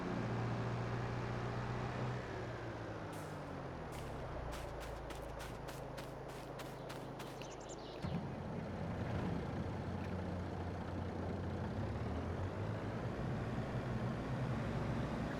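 Truck engine in Farming Simulator 22 rumbling steadily near, with a gear-like shift of pitch early on, a burst of rapid clicking ticks in the middle and a rougher, louder drone after a sudden change partway through.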